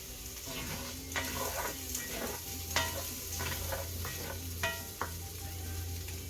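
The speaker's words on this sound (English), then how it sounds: "Giving it one more stir." A vegan Spam mixture is stirred in a frying pan, giving a low sizzle broken by repeated sharp scrapes and taps of the utensil against the pan, close and without talk.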